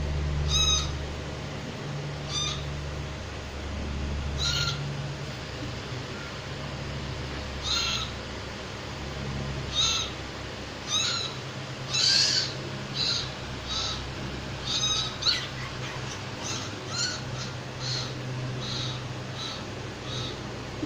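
Several loud, harsh caws of a crow ring out in irregular bursts against a steady low hum and outdoor background, with no talking.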